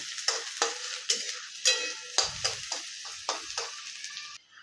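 Green chillies frying with onions in a pan, a series of stirring scrapes and clatters about every half second over a bright, fairly quiet sizzle.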